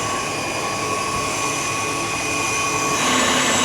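Electric mixer whipping cream with icing sugar for a homemade matcha dessert, a steady dense mechanical whir that runs loud and close throughout, with no talk over it.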